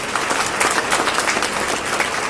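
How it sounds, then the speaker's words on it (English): Audience applause at a felicitation function for a keyboard player, a steady dense patter of many hands clapping together, fairly loud and even throughout with no talking over it. "So please give him a big round of applause."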